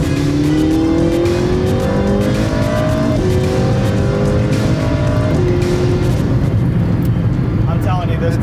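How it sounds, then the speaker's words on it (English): A McLaren 675LT revs hard at high RPM as it accelerates, its loud engine note climbing through several rising sweeps with gear changes, heard from inside the car with a voice talking over it. "I'm telling you, this car, it's so smooth, that acceleration"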